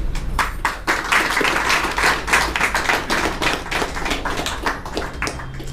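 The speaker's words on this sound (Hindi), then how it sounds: "आप सबकी तालियां थोड़ी कम नजर आ रही हैं मुझे" A welcoming audience claps at a gathering, a continuous patter of many hands at moderate distance that holds steady without voices.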